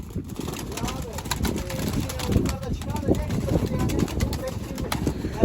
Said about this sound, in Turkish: Gerçekten muazzam kuşlar.